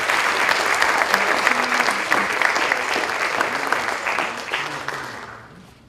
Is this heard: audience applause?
yes